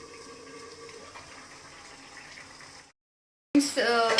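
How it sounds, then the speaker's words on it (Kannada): Water poured into chicken cooking in a pot, a steady close pouring rush that runs for about three seconds, stops briefly, then returns louder and brighter. "ಇನ್ನು ಸ್ವಲ್ಪ ನೀರು ಹಾಕ್ತಾ ಇದ್ದಾರೆ"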